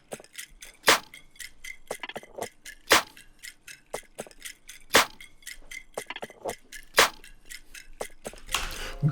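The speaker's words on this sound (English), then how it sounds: "Then I had some percussions with a snare." Crisp snare hits land about every two seconds over soft, light ticking percussion, dry and close.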